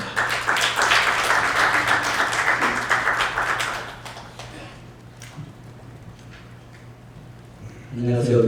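Audience applause at a PBA-LPBA billiards team league media day, a dense burst of clapping for about four seconds that fades into a quieter room with scattered sounds.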